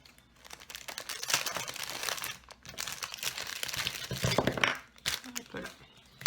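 Small papers are crumpled and crinkled close by in a quiet room, with irregular rustling bursts that keep on throughout.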